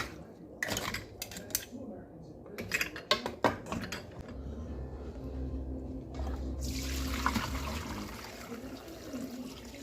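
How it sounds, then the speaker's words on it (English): Cooked clams and their broth are strained in a kitchen while making seafood chowder, with clattering metal pot and utensil knocks, then a steady pouring, running liquid sound; the clinks come in bursts early and the pour lasts several seconds. "We'll strain all this out and chop them up for the soup."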